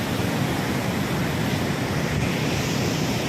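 Water from the overflowing Terna dam rushes in a dense, constant roar, loud and unbroken with no voices.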